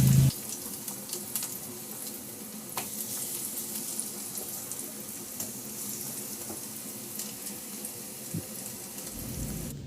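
Patties of canned tuna and leftover vegetables fry in a pan with a continuous hissing sizzle and light spitting crackles, steady and close for the whole stretch, no voices.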